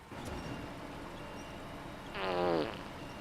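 A short fart sound effect, set off by a stream redeem during SnowRunner gameplay, buzzes out as a brief rippling burst lasting about half a second over a steady low background drone.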